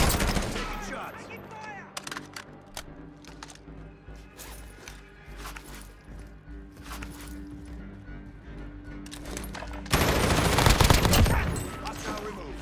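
Bursts of gunfire in the video game Warzone, sharp cracks and rapid volleys spread through the clip, ending in a loud sustained stretch of firing.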